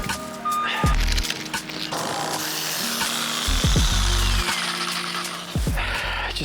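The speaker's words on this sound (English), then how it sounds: "So I'm gonna pry this thing apart and then use a Sawzall to cut it down" A Sawzall reciprocating saw cuts apart a tortoise pen, loud and close, in several bursts with brief pauses between cuts and no talking.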